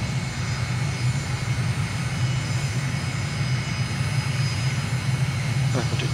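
An aircraft's landing gear extends in a flight simulator over a steady, loud engine drone, with a low continuous rumble underneath and no talking.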